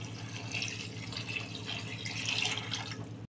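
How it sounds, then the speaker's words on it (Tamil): Water streams steadily into a cooking pan during preparation of an egg curry, a continuous gentle splashing pour that stays fairly quiet and close before stopping abruptly, with no talking. "தண்ணி சேர்த்துக்கோங்க."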